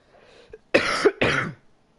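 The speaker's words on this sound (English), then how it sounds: "My cough is, for some reason, really big now." Two harsh, close coughs in quick succession, preceded by a faint small throat sound, then silence.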